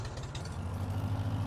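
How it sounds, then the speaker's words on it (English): A Farmall 560 tractor engine idles low and steady while backing up, its deep, even rumble holding at a moderate level with no other sounds. "just back this tractor on up and just give you guys a nice perspective of the size difference of the mowers"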